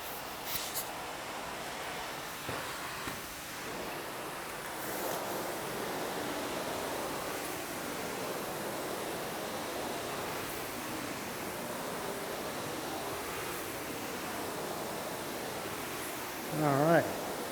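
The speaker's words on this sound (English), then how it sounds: "all this is hooked up to a van outside that puts water in through this hose here, the blue one, and extracts it through the vacuum hose" A truck-mounted tile wand sprays water over a concrete floor while vacuum extraction runs, giving a continuous broad rushing hiss that stays even for the whole stretch, with a short louder burst near the end.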